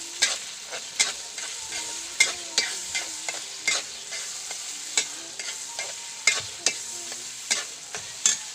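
Tomatoes sautéing in a pan for Bicol-style bagoong, a soft steady sizzle punctuated by regular sharp taps and scrapes of a spatula stirring against the pan, close and clear with no talk.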